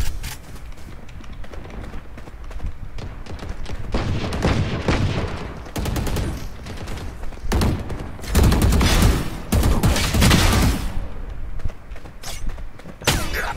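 Gunfire in the video game Valorant comes in loud bursts and single shots, with clustered volleys mid-way and near the end over a steady game background, without speech.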